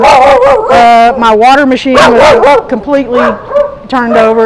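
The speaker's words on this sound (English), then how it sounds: "sorry about the dogs" Dogs bark, yip and howl loudly and close by inside a beachfront house at Sargent Beach, Texas, after Hurricane Beryl, sounding in rapid overlapping bursts while someone talks over them.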